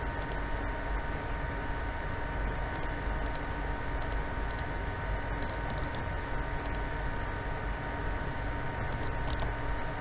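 Computer mouse clicking in short, irregular clusters while tracing footpath segments in ArcGIS, close and fairly faint over a steady hiss of background noise, with no voices.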